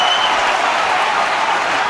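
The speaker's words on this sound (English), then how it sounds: "the crowd are getting behind this Ulster side" Rugby stadium crowd at an Ulster versus Benetton match applauding and cheering for Ulster: a dense, steady wash of clapping and crowd noise that holds at full strength throughout, with no clear voice on top.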